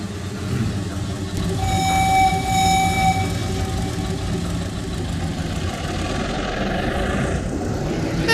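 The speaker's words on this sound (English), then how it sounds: "That little whistle's cute." A small locomotive whistle in the train simulator Trainz 2022 sounds as a steady tone for about a second and a half, laid over continuous rumbling rail and engine noise that carries on throughout.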